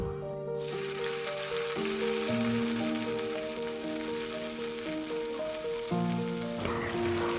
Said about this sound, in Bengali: তেল গরম হয়ে গেলে আগে থেকে কেটে ধুয়ে রাখা ঢ্যাঁড়সগুলি দিয়ে দেব